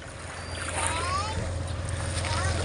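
A boat out on the water during night squid fishing, with a low steady motor hum and rushing water wash close by, while people talk faintly in the background.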